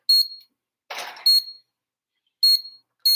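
A kitchen timer beeps in short bright electronic bursts, three clear pulses with gaps between them, plus a brief rustle near the start, loud and close with no talking.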